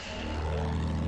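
Propeller drone of an attack plane's aircraft engine in the World War I shooter game Battlefield 1, a steady, loud, continuous hum that holds throughout without a break.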